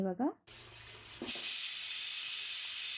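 A pressure cooker cooking lentils for radish sambar lets out a loud, sustained steam whistle, a bright hiss that starts abruptly after a short stretch of talking and carries on steadily to the end.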